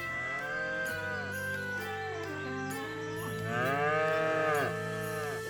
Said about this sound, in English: Oh man, here's the cows.